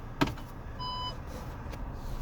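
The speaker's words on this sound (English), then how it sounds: "So in this car, you do have the parking sensors. You probably just heard that beep." A car's parking sensor gives a single short electronic beep, clear but fairly faint, after a brief click, with light background noise and no talking.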